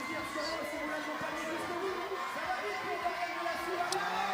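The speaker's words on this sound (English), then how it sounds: "Now, as you can hear in the background, the French crowd getting extremely excited for Dorian Delassus." A French crowd at a canoe slalom race in Vaires-sur-Marne roars and cheers continuously in the background, with a commentator talking over it.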